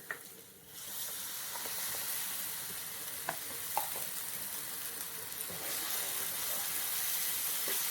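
Ground tomato simmers in a pan with chicken masala for Andhra-style Hyderabad chicken. A steady close sizzle and hiss carries throughout, with a few light clicks of stirring near the start.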